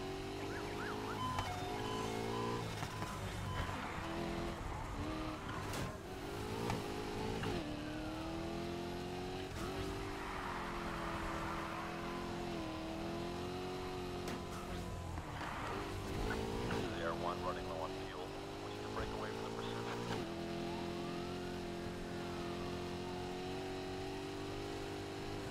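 Racing car engines roar and shift through gears in Need for Speed Heat, with continuous high revving under steady game music and sound effects, while people talk over the action.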